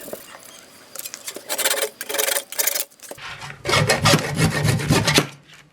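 Close rasping rubs of a scourer worked back and forth over a sanded wooden hammer handle, coming in repeated strokes of varying length with brief gaps between them.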